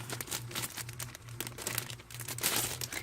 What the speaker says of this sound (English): Let's go ahead and grab this paper.